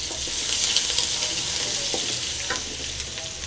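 Mustard seeds, curry leaves and garlic frying in hot oil for a broad bean stir-fry: a loud, steady, dense sizzle with faint crackles and light stirring underneath, close up and continuous.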